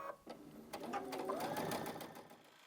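A sewing machine runs steadily as it stitches a seam through a stuffed puff quilt, its fast even whirr holding close and loud after a brief start, with no one talking.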